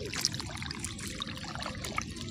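Irrigation water in a village field trickles steadily from an earthen channel into a crop bed, a close, continuous babbling flow with no talking.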